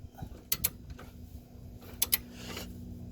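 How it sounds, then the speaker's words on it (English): A torque wrench tightens a 19mm bolt on the front upper control arm of a 2003–2009 Toyota 4Runner, giving a few faint, close ratcheting clicks in two short pairs over quiet workshop background. "Now we're going to torque it down"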